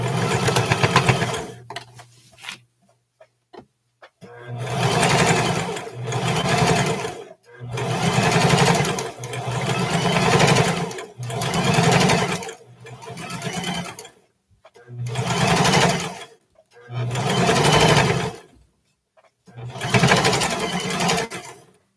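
Sewing machine stitching the bottom hem of a pair of short pants, running in about eight steady bursts of a few seconds each with short pauses between as the fabric is turned.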